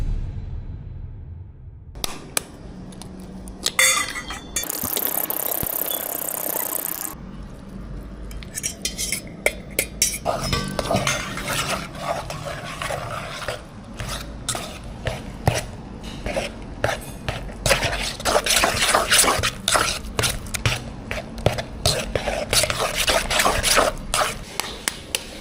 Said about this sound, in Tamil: முட்டையை போட்டு நல்லா அடித்து குழச்சா சரி.